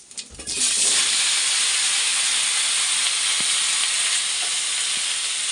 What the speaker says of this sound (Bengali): তেল গরম হয়ে গেছে আর তেলের মধ্যে একটু জিরে ফোড়ন দিয়ে দিলাম